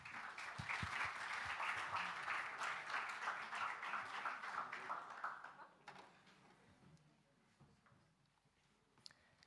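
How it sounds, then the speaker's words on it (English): Audience applause welcoming the Estonia team on stage at the JA Europe Enterprise Challenge 2018, brisk many-handed clapping that holds steady for several seconds, then fades into a quiet room with a few stray claps. "round of applause"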